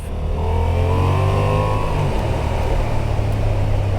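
A Honda XL750 Transalp motorcycle engine pulls hard under acceleration with traction control and ABS off, a loud close rising growl that holds steady and strong throughout.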